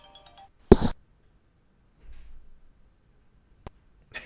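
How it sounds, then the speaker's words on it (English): A mobile phone ringtone sounds in a quiet room, a short burst of ringing followed by scattered faint noises and another brief electronic tone near the end. "I think his phone just rang"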